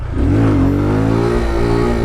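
Motorcycle engine revving during riding practice on a training course, a loud close rising rev that settles into a steady drone, no speech.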